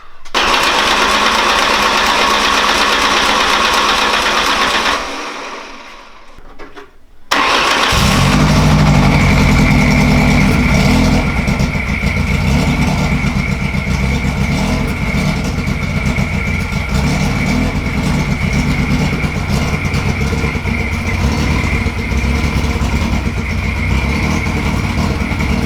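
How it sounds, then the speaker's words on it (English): A race car engine cranks and fires up in the pits, with loud mechanical noise, a brief lull, then a rough, steady close idle that continues to the end. "I just want to get the motor fired, get us through that stage"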